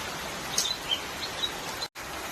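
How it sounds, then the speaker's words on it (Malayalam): Birds chirp faintly in a green village setting while rain falls steadily on a tiled roof, giving a few brief high tweets scattered over a dense, continuous hiss of rainfall. "ഈ കിളികളുടെ സൗണ്ട് തന്നെ മെയിൻ."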